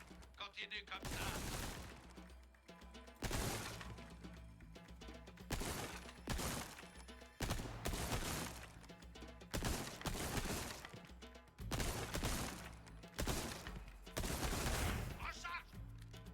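A TMP submachine gun fires in Resident Evil 4, loud rapid bursts separated by short pauses, repeating across the stretch, with the game's impacts and breaking sounds mixed in.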